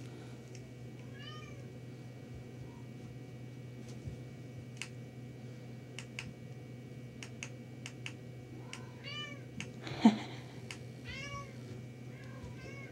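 A cat meows several times in short, fairly faint calls over a quiet indoor room, with light ticking and a single louder knock near the end.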